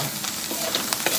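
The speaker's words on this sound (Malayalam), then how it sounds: "നമ്മളിനി അടിയിൽ നിന്ന് കോരി ഇളക്കുക" Masala frying in a pan is stirred up from the bottom, a soft close sizzle broken by brief scraping strokes of the spoon, all at a gentle level.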